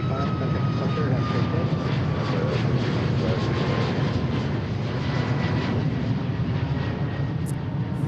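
The jet engines of a Boeing 737 MAX 8 at Seattle airport give a steady, loud roar with a broad rumble that holds throughout, while faint voices run beneath.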